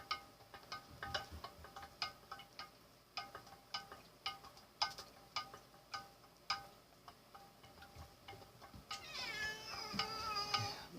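Pet cat meowing indoors in a home computer room: a steady series of faint ticks runs throughout, then a longer, louder meow near the end, with no talk.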